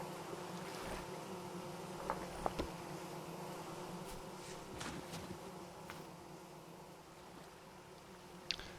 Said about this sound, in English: we have a beehive here somewhere